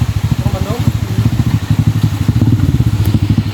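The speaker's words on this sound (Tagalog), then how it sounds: "Ayan, may motor, oh." A motorcycle engine on a rough mountain road in Mindanao chugs loudly and close in a fast, steady low thumping like idling or slow riding, with voices faintly under it.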